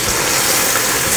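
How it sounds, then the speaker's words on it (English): Half a cup of water poured into a pot of butter chicken curry gravy with tomatoes, green chili and cashews, a short steady gushing splash, loud and close, with no talk. "I'll add 1/2 cup of water."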